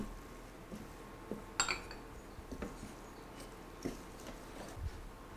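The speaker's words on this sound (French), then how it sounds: "Le parmesan. Et la chapelure. On mélange comme il faut." A spoon clinks lightly against a bowl while grated parmesan and breadcrumbs are mixed as stuffing for an eggplant antipasto, with sparse, quiet scrapes and taps.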